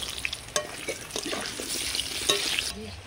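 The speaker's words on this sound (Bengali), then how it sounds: "ওই মাছ ভাজার তেলেতেই কেটে রাখা আলুগুলোকে ভেজে নেব।" Cut potatoes fry in leftover fish-frying oil, a soft, steady sizzle with occasional clinks and stirring sounds, fairly quiet and close.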